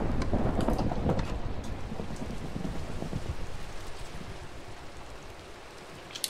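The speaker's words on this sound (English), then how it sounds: "let's get inside and sleep through this thunderstorm." Steady heavy rain of a Minecraft thunderstorm pours continuously, louder at first with a rumble of thunder in the opening seconds, then easing to a constant patter.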